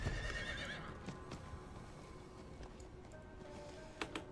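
A horse in the video game Diablo 4 gives a loud whinny at the start, followed by sparse clip-clop hoofbeats and a couple of sharp hoof strikes near the end.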